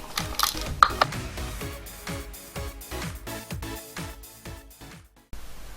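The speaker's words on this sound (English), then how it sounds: "Then you should be able to undo the bolts." A ratchet on a Mazda MX5 Mk2 engine being stripped down clicks in quick repeated strokes while undoing bolts, close and loud, with a brief pause near the end.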